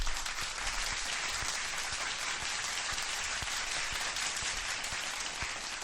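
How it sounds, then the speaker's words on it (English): A live crowd at a UFC mixed martial arts event bursts into steady, dense applause, a continuous wash of clapping heard close and loud throughout, with no talk over it. "Round of applause."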